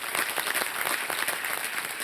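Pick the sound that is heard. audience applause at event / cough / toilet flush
audience applause at event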